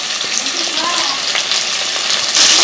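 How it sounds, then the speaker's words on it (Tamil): Onions, green chilies and curry leaves sauté in a hot pan with a loud, continuous sizzle and crackle, growing brighter near the end. "இதெல்லாம் சேர்த்து நல்லா வதக்கலாங்க"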